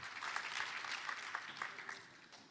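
Audience applause at a corporate conference on digital transformation and retail as guests from Canal+ and Beaumanoir take the stage, steady clapping at moderate distance, fairly soft, with no talk over it.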